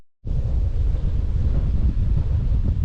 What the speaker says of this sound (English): Windy out here, but this is our last stop